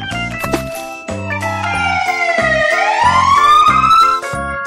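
Fire truck siren from a children's vehicle sound collection, a loud wailing tone that dips low and then rises slowly and smoothly, heard close over a rhythmic backing track with chimes.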